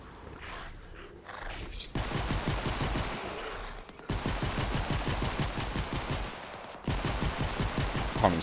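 Rapid, continuous pistol gunfire in Fortnite: Save the World rattles in long bursts with brief pauses between them, loud and close.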